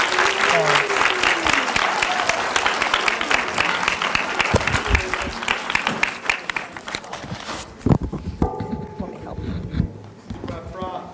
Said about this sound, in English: Please give a wide range of applause for Ms.